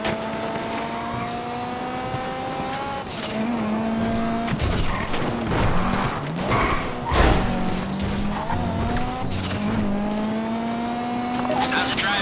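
A car engine drones and shifts pitch during a heist getaway drive in GTA Online, with tire squeals and a few impact thuds, while a voice talks over it throughout.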